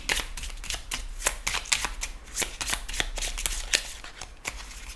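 Oracle cards riffled and shuffled by hand for a tarot-style reading, a steady run of crisp, papery flicks and slaps repeating close up for the whole stretch, with no talking.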